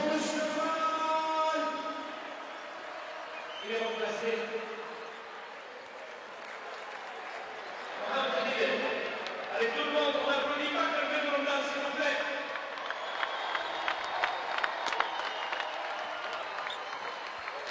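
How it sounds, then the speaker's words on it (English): An arena crowd at an Angola versus Tunisia basketball game applauds as a player leaves the court, cheering and clapping swelling and fading under a commentator's voice. "Here's the applause as he leaves the game."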